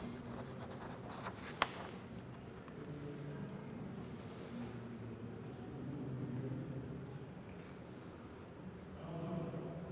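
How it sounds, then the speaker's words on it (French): Pen writing on a paper dinosaur pop-up card, a faint, steady scratching and rubbing with one small tap early on, soft and close in a quiet room. "je vais écrire sur mon pop-up"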